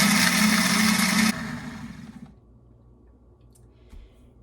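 Blender grinding dried garlic into powder, a loud, harsh whirring roar that cuts off abruptly and winds down into quiet, with a faint tick near the end.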